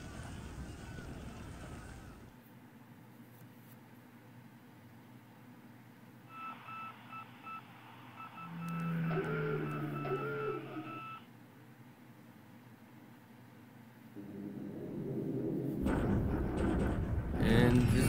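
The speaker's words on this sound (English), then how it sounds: "Sinking sound." Ship sinking effect from the naval strategy game War in the Pacific: AE, a low rumbling swell with watery noise and beeping tones, rising to a heavier surge before fading, heard alone without talk.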